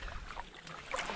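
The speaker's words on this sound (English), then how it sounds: "we've been paddling for coming up 40 minutes" Kayak paddle strokes dip and swirl in the River Derwent while moving gently upstream, faint soft splashes close by over light wind.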